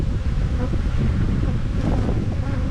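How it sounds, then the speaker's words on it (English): Steady wind buffets the microphone beside beehives in Australia with a constant low rumble and rustle, continuous and fairly loud throughout. "It's getting a bit windy"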